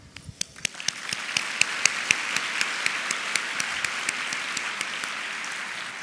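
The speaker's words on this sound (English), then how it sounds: "Rachel, Deborah, and Guadalupe, we applaud you, and we are indeed inspired by your dreams," Audience applause at a luncheon: a few sharp claps at first, then building into full, sustained clapping from a large crowd that holds steady to the end.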